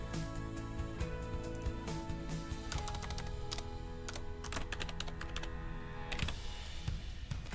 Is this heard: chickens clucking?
no